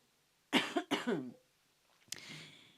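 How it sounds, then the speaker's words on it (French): Two harsh coughs close together, then after a pause a single softer cough trailing off, heard alone and close by. "Excusez-moi, je vais tousser."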